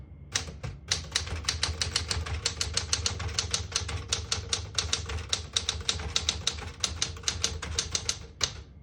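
Rapid, crisp keystrokes clatter from a 1967 Smith-Corona Super Sterling portable manual typewriter up close, a steady run of sharp mechanical taps over a low background hum.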